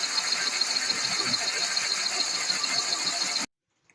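A model 675 slotting machine runs with a steady mechanical hum and whine, then is switched off and falls abruptly silent near the end.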